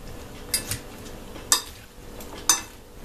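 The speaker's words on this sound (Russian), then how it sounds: "И перемешиваем салат." Greek salad being tossed in a bowl, with three separate sharp clinks of a utensil against the dish spaced about a second apart, close and fairly quiet.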